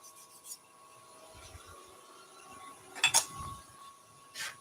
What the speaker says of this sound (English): So just a little diamond file